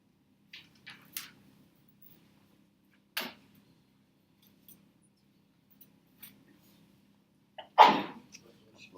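A single sharp sneeze bursts out near the end amid a quiet classroom math lesson, preceded by scattered faint ticks and clicks.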